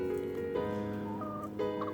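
Chickens on a farm cluck and call close by, a short run of tonal bird vocalizations with a brief rising note midway, heard alone without talk.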